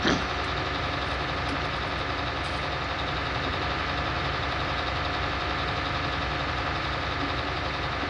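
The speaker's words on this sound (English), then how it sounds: "I love how it's idling just at 2000" Engine holding a steady idle at 2000 RPM, a loud, constant mid-pitched drone with even vibration and no breaks, heard close and alone.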